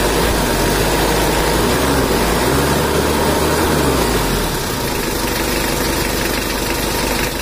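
A freshly rebuilt Mitsubishi Strada Triton 4D56T diesel idles during its run-in. The engine gives a steady, close, rattling knock that holds throughout with no talk.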